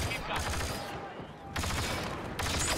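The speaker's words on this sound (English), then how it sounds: "I got shot from behind!" Rapid video game gunfire rattles in dense bursts, with a brief lull between volleys before the shooting resumes loudly.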